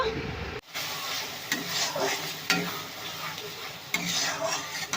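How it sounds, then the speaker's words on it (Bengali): White mustard and poppy seed paste is stirred in a pan of hot oil, a steady close sizzle broken by repeated scraping strokes of the spoon, with a sharp knock near the start. "এখানে সাদা সর্ষে আর পোস্ত বেটে রেখেছি, এটাকে ভালো করে নাড়াচাড়া করে মিশিয়ে নেব"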